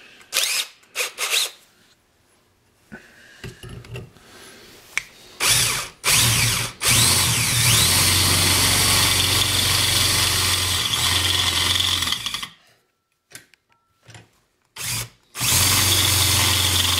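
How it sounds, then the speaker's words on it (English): A power drill drilling pilot holes whirs in short bursts, then runs steadily for several seconds, stops briefly, and starts again, loud and close. "I just marked it out and I drilled my first little pilot hole"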